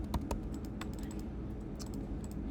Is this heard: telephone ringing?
no